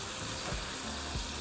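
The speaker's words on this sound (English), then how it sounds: "once our oil is nice and hot, we're going to lightly fry our tortillas" Tortillas lightly frying in hot oil for a Mexican chicken tortilla casserole, a steady close sizzle and crackle throughout with a couple of soft bumps and a sharper splash at the end.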